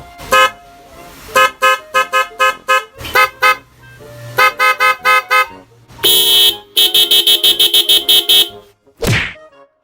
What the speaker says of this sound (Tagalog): May mga busina dito na marunong magsalita, tara pakinggan nyo.